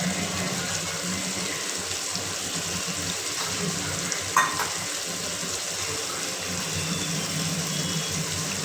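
Meat frying in oil in a pan, with a steady, loud, dense sizzle filling the whole stretch and a brief clink around the middle.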